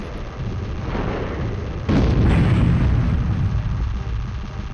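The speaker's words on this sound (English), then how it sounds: "Acid Cannon ready to fire!" Acid cannon firing and exploding in the Storm Winds video game, a heavy booming blast that hits about two seconds in and rumbles on loudly, over a steady background roar.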